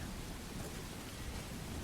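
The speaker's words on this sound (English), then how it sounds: "Blessed rain to moisturize my dry skin" Steady in-game rainfall in Skyrim, a continuous even hiss that fills the short stretch at a constant level with no distinct drops or thunder.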